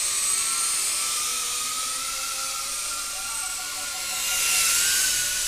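High-pitched whining motors of a Mobula7 HD cinewhoop FPV drone buzz loudly and continuously, rising and falling in pitch as the craft speeds up and slows.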